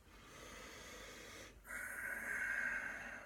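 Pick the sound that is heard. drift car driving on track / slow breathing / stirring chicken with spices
slow breathing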